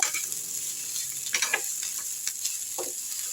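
Grated coconut being dry-roasted lightly in a hot pan for black urad dal chutney, with a steady soft sizzle and a few scraping stirs close by, no talking.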